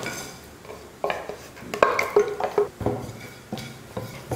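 Coconut, shallots, fennel and cinnamon sautéing in a pan, stirred with a utensil in irregular knocking and scraping strokes over a faint sizzle, close and moderately loud.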